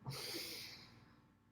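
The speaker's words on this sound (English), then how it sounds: "So we'll breathe in through the nose, filling" A single deep inhalation drawn through the nose, a close, breathy rush that starts strong and slowly tapers over about a second and a half, heard alone without speech.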